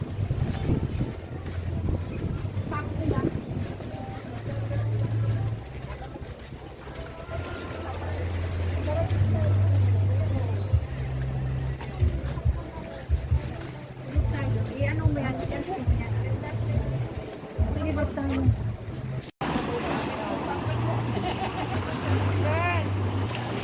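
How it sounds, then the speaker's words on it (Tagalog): Strong sea waves roll and wash along the shore at La Playa Resort in Tanza, Cavite, a continuous rushing surf mixed with wind buffeting the microphone, with people talking and shouting nearby throughout. "Grabing alon, no?"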